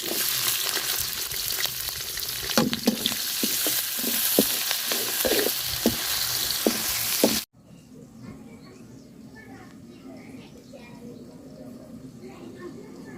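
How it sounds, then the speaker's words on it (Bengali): Sliced onion and chili sizzling in oil in a pan, a close, steady hiss punctuated by spatula scrapes and taps, cutting off abruptly about halfway to a much quieter, low background. "পেঁয়াজটা আর মরিচটা আমি সুন্দর করে ভাজা নিচ্ছি"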